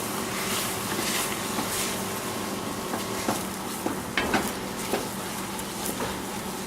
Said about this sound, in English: Just give it a bit of a stir.